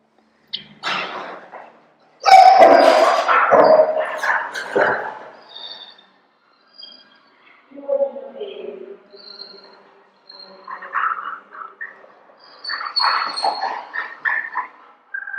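A dog barks and whimpers during a training session in several close, uneven bursts separated by short pauses, with yips and softer whines mixed in.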